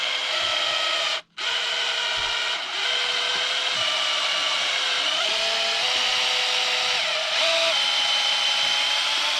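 Power drill driving screws into a wing mount on an Arrma Kraton 8S EXB RC car, a steady close whirring and grinding that continues almost without pause, with one brief break near the start.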